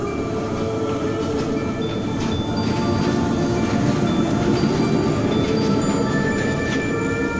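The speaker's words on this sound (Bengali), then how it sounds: "পাঁচুরা জংশনে ট্রেন দেখতে পেলাম।" A train at Panchura railway junction rumbling steadily and loudly close by, wheels grinding with faint metallic squeals and clatter throughout, no voices.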